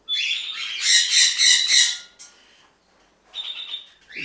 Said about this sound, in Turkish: Yuvasını koruyor.